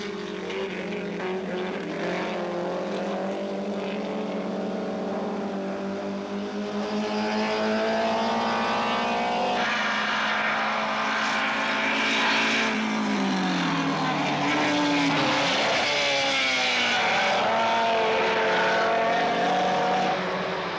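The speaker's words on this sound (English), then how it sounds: "Kuoni Vaser from Switzerland in the white Giulietta SZ enters the Dunlop bend ahead of the SS." Classic race cars, including a white Alfa Romeo Giulietta SZ aluminium lightweight coupe, run through the Dunlop bend on a circuit, engines roaring loudly as they pass, with revs rising and dropping through gear changes and the bend.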